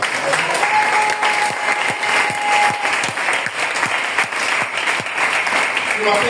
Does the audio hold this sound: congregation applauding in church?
yes